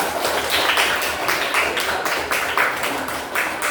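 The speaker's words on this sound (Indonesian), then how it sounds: "Oke, tepuk tangan buat kelompok 3" Schoolchildren in a classroom clap for a group in a steady, rhythmic beat, loud and close, with the claps evenly spaced across the whole stretch.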